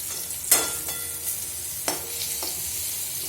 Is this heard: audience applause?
no